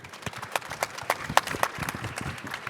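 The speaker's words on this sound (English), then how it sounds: "Let's give them a round of applause, please." Audience applause for panelists at the close of a meeting session, a thin scattering of individual claps from a modest crowd, fairly near and lasting a couple of seconds.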